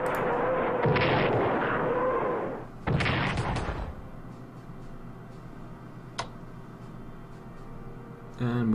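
Rocket artillery fires in Strategic Command Allied 1944, a WWII strategy video game, with loud whooshing salvos and rumbling blasts, then a quieter stretch with a single sharp crack and another burst at the end.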